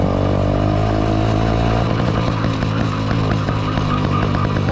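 A modified TVS XL 70cc moped engine runs steadily while being ridden on a highway, giving a loud, continuous buzzing drone that shifts pitch and becomes more throbbing partway through.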